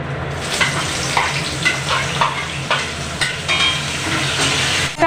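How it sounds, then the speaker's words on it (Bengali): Chopped onion sizzles and fries in hot oil alongside bay leaves and whole garam masala for a Bengali chicken roast, a steady close crackling hiss with occasional stirring scrapes, no voices. "তেজপাতার গরম মশলাটা একটু ভাজা ভাজা হলে তারপরে দিয়ে দেব পেঁয়াজ কুচি যে পেঁয়াজ কুচোটা দিয়ে দিচ্ছি"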